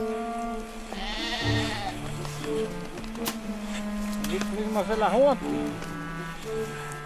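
Sheep bleat in snow in the Austrian Alps, giving several wavering cries at mid distance. A narrator talks over them.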